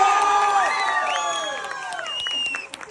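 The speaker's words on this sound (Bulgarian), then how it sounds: "Може ли малко аплодисменти за най-добрия?" A crowd at a school graduation-night celebration cheers, whoops and whistles loudly and continuously, with shouting voices mixed in and a brief dip near the end.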